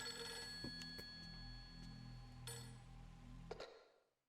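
A telephone rings in Fatal Frame III with bell-like ringing and sharp metallic strikes over a low ambient drone, fading out to silence at the end.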